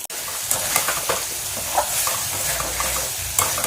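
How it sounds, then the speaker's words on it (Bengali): An egg frying with spices in a pan while being stirred, a dense, steady sizzle with scraping strokes, close and fairly loud. "এখন ডিমটা দিয়ে আবার ভালো করে কষিয়ে নিচ্ছি"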